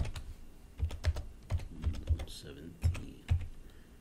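Someone types a new password on a computer keyboard, about a dozen close, crisp key taps in an uneven rhythm, fairly quiet, with a faint voice briefly in the background.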